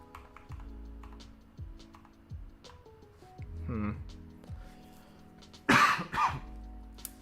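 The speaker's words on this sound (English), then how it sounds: "I guess my coughs are in full volume now." A person at a computer coughs sharply twice near the end, loud and close, after a stretch of soft keyboard typing and clicks with some faint talk.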